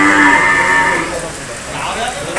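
A loud, drawn-out low moo from a buffalo close by at a buffalo market in the rain, fading into a quieter, breathy tail.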